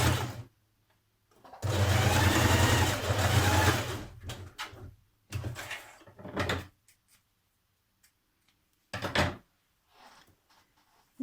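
A home sewing machine stitches a dress's back facing to its front facing at the shoulders in short bursts: one longer whirring run followed by several brief stop-start spurts separated by quiet pauses.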